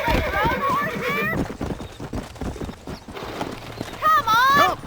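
Horse hooves clip-clop in the video game Red Dead Redemption 2 while a horse is being lassoed and broken, the hoofbeats mixed with whinnies and a voice talking over them.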